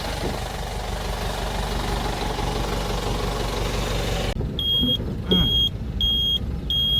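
Vehicle engine idling before setting off, a steady low rumble throughout, with faint repeating beeps and a few thumps near the end.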